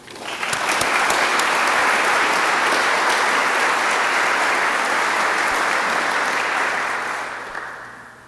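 An audience at Texas A&M claps warmly for Dr. Catherine Woteki, a dense round of applause that swells quickly, holds steady for several seconds, then tapers off near the end.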